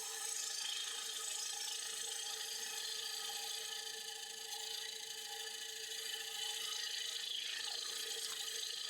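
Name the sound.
wood lathe turning hard maple platter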